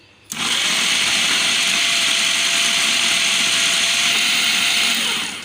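An electric chopper grinds boiled meat for shami kabab, starting abruptly and holding a loud, steady high-pitched whir for several seconds before easing off at the end.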